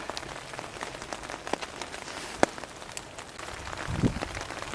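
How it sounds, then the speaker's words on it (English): Heavy rain drums steadily on a tarp shelter in the woods, a dense close patter with a few louder drops striking now and then. "while it's raining so hard, I can't really do much when it's raining this hard"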